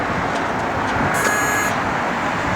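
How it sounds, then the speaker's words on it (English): A 1968 Chevrolet Camaro RS door buzzer gives a steady, bright electric drone for about half a second, standing out faintly over a constant background hum. "You can hear the door buzzer works."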